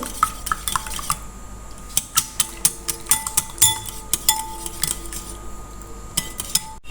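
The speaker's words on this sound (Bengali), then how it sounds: "ডিমের মধ্যে দিয়েছি সামান্য একটু লবণ এটা মেশানো হয়ে গেলে হবে" Eggs being mixed with a pinch of salt in a bowl, a utensil clinking and scraping against the dish in quick irregular taps and short strokes, close and fairly loud with no talking.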